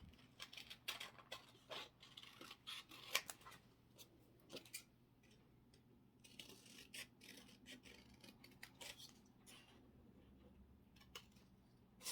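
Scissors snipping the corners off paper for decoupage wooden crosses, a series of quiet, close clicks and rustles at an uneven pace over a soft background hum, with no talking.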